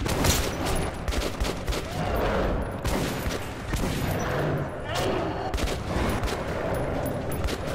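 Rapid, dense gunfire from the video game Metro 2033 sounds as sustained bursts of shooting with booming impacts. It stays loud and continuous throughout, with a voice speaking briefly over it.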